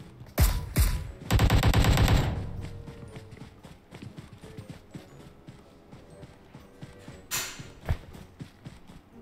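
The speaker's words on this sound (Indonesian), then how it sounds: "teman gua nembak lagi tuh" Bursts of automatic gunfire from a teammate in the battle royale game PUBG Mobile, a couple of loud rapid volleys standing out over quieter game sounds and clatter.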